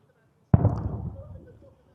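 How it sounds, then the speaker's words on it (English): A single heavy-weapons blast from combat in North Lebanon hits with a sharp onset, then a rumbling tail fades over about a second. "That was a huge explosion."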